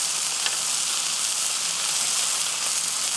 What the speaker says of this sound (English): we're going to go ahead and put our butter on real quick and put our buns.